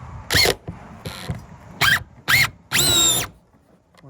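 A power drill driving screws into 1/4 inch plywood while prepping window openings, with several short whirring bursts of rising and falling pitch, the last one longer and steady, close and loud with pauses between.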